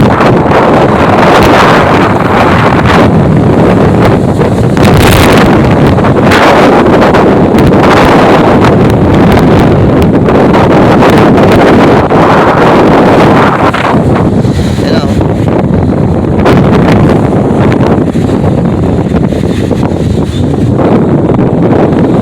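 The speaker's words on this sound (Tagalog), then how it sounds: "Medyo malakas ang hangin kaya baka hindi nyo masyadong marinig yung mga sinasabi ko" Strong wind roars and buffets the microphone continuously, a loud, rushing blast that never lets up, with gusts surging throughout.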